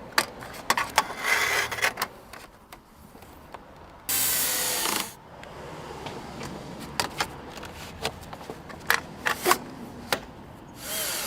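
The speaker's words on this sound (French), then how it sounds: "Visse ensuite les autres pièces du cadre de recouvrement tour à tour vers la droite et vers la gauche" A power screwdriver drives in the cover frame pieces of a VELUX roof window, with several short whirring bursts, one longer loud run in the middle, clicks and handling knocks, and no talking.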